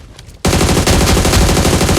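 Sustained automatic gunfire in the mobile game PUBG Mobile during a Naruto crossover event. A rapid, loud, continuous burst cuts in suddenly after a short quiet moment and keeps hammering close to the listener.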